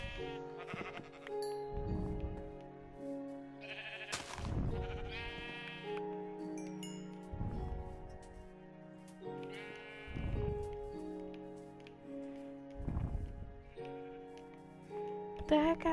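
Sheep in the Minecraft video game bleat repeatedly, several distinct wavering calls spaced a few seconds apart, fairly clear against a quiet background.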